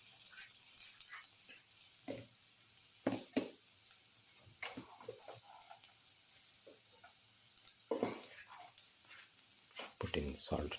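Ginger frying in a pan for a beef okra stew gives a faint, low sizzle, broken by scattered clicks and knocks of a spatula against the pan.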